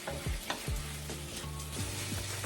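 Onions softening in a hot skillet give a steady, close sizzle, and now and then a utensil scrapes or stirs through them.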